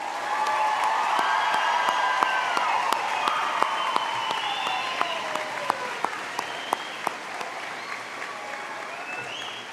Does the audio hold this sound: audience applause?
yes